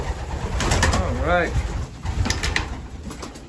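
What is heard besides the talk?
birds cooing in a coop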